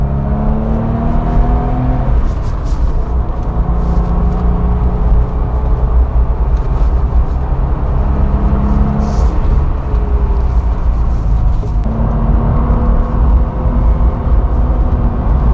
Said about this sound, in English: there's nothing like the authentic sound of an air-cooled Porsche